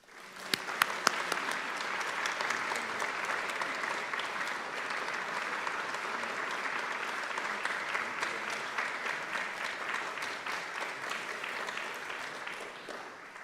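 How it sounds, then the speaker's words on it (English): Audience at an annual meeting applauds their outgoing president, a dense, steady wash of clapping from a large crowd that swells quickly and holds for over ten seconds with a few sharp claps near the start. "we invite you all to applaud her work as our president"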